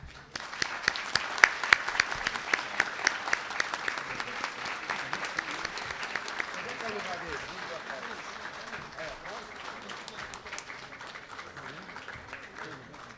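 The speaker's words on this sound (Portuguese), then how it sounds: "receber o merecido aplauso" An audience at a 2013 swearing-in ceremony applauds newly sworn-in councillors, sustained dense clapping that starts sharp and gradually thins out, with voices mixed in.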